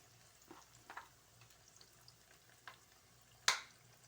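Pakora batter fries in hot oil for Punjabi kadhi chawal, a faint steady sizzle broken by light stirring taps and one sharp splashy crackle near the end, close by with no talking.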